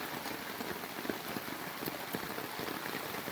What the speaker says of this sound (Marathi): नुसता पाऊसच पाऊस आणि पाणी